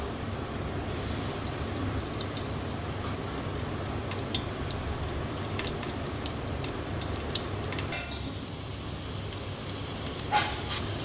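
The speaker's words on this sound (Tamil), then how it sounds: "இந்த எண்ணெயில் இந்த பாவக்காய் நம்ம இந்த மாதிரி அசம்பிள் பண்ணிவிட்டு மீடியம் ஃப்ளேமில் வச்சு கவர் பண்ணி ஃப்ரை பண்ணலாம்" Bitter gourd fries in oil in a pan over medium flame, giving a steady low crackling sizzle with scattered small pops and occasional utensil clinks close by.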